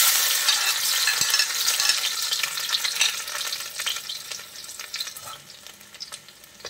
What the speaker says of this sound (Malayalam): അപ്പോൾ ബാക്കിയുള്ള എണ്ണയിലേക്ക് നമുക്ക് ആദ്യം കുറച്ച് വെളുത്തുള്ളി ചെറുതായിട്ട് അരിഞ്ഞത് ഇട്ട് കൊടുക്കാം